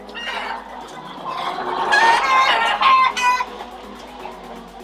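Chickens at a large commercial egg farm housing tens of thousands of birds cluck and squawk in a loud, close, overlapping chorus that swells midway.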